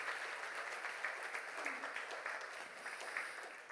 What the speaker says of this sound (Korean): 박수 한번 하시죠